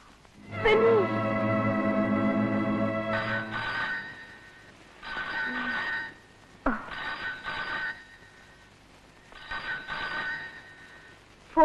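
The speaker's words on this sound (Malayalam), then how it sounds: "ഫോൺ" An old telephone bell rings in repeated bursts indoors, each shrill trill lasting about a second with short pauses between, following a brief sustained tone at the start.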